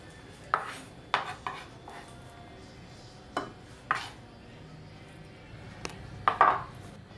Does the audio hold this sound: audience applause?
no